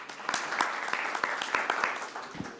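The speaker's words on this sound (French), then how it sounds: "On va l'applaudir quand même." A workshop audience at a clinical chemistry congress breaks into brief applause, a moderate crowd of hands clapping steadily with a few sharper claps standing out, lasting under three seconds.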